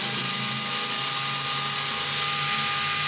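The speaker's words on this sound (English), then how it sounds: "now I'm gonna get the masonry drill bit out and finish it up on the wall" A masonry drill bit grinds steadily into a wall, a loud, continuous whining drone with no pauses and no talk.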